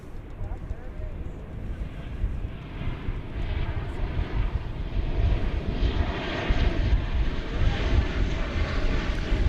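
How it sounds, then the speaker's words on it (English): An Alaska Airlines Boeing 737-900 jet at DFW Airport gives off a continuous rumbling engine roar that builds gradually, heard at moderate distance with people talking over it. "It's an Alaska Airlines 737-900."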